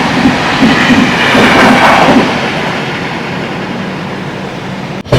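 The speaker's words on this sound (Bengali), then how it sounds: "ট্রেনের ক্রসিং হচ্ছে" A passenger express train rumbles along the rails in a steady, loud roll of wheels and carriage noise, heard from inside a first-class AC coach, with a sharp knock near the end.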